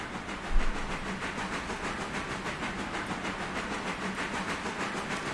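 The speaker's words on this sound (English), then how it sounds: "As soon as we get this train stopped at the station" A train pulling into a station in the Railroader video game, heard as a steady, dense roar of rolling wheels and hissing steam with a faint rhythmic clatter and a brief low thump near the start.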